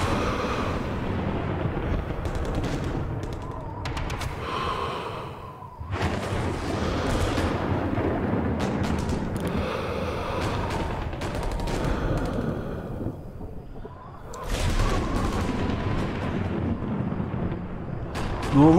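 Sustained gunfire and explosions in Sniper Elite 3 roll on almost continuously with dense crackling shots and booming blasts, briefly dropping into quieter gaps before resuming loudly.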